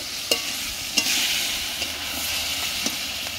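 Meat going into a hot pan of tomato-based masala and being stirred, with a steady frying sizzle and a few sharp scrapes of the spoon against the pan, close and without talk.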